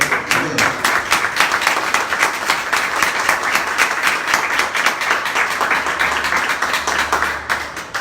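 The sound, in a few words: congregation applauding in church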